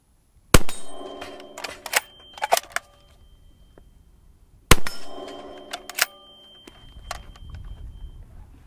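Two loud, sharp shots from a suppressed subsonic .308 sniper rifle with a muzzle brake, several seconds apart, each followed by a ringing metallic resonance and smaller clanks as it fades.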